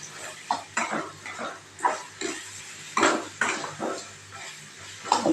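A spoon stirring a mixture of raw mango, jaggery and chili powder in a pan, with rhythmic scraping strokes repeating about once or twice a second, close and moderately quiet.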